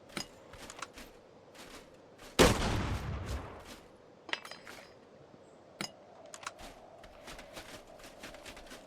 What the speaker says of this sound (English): There's the buckshot round.